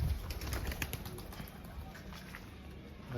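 Pigeons coo softly in the open, with a steady low murmur of calls and faint background noise and no voices.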